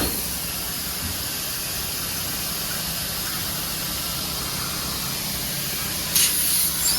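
Steady hiss of compressed air filling the tires on a Lexus GS350 fitted with 22-inch forged wheels. It runs without a break through the whole stretch, with a short, louder burst near the end and no talk over it.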